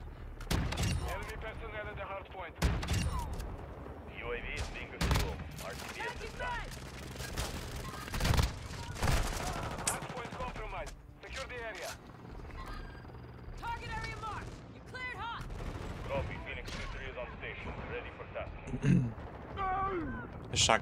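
Bryson 890 shotgun blasts from Modern Warfare 2 multiplayer crack out as sharp, separated bursts every few seconds amid game noise, with a person talking over the action between shots.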